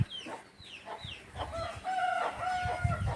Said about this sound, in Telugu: పిల్లలన్నీ వచ్చినాయా లేదా అని చూడు అరుస్తా ఉంది